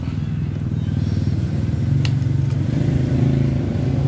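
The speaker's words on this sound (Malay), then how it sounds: "Okay kan, engine dah hidup." A motorcycle engine with a newly replaced starter relay runs after starting, holding a close, steady, pulsing idle. A couple of light metallic clicks sound midway over the engine.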